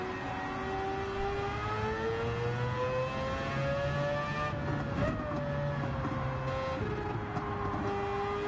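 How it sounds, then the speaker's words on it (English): Racing car engine in Gran Turismo 7 at the Red Bull Ring, a steady high-pitched whine that rises and falls as another car passes, with no talk. "There goes another car."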